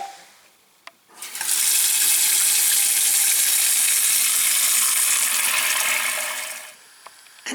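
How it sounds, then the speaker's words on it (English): Water gushes from a tap into a large cooking pot, a steady rushing stream that starts abruptly after a small clunk and cuts off near the end. "Add water to a large pot."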